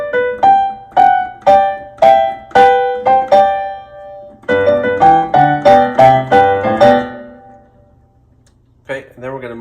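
Piano right hand playing a melody with added pinky harmony notes, part of the prelude to a song, heard as a run of evenly spaced struck notes, a short pause, then a second denser phrase, loud and close with no talking.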